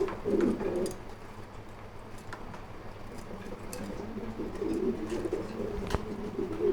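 Pigeons cooing on a pigeon farm, soft repeated low throaty calls close by, with small rustles and clicks in between.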